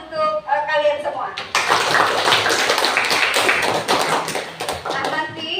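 After a teacher's brief spoken line, children in a classroom burst into sustained, lively hand clapping, dense and fairly close, continuing steadily for several seconds.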